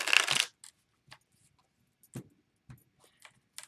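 Brief, scattered rustles and soft clicks of tarot cards being handled, starting with a louder burst of shuffling, then sparse light taps, close and quiet.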